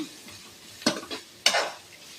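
Chopped onion and carrot fry in hot oil in a pan for kara idiyappam. A utensil scrapes and stirs twice in distinct close strokes over a soft, constant sizzle, with no talk.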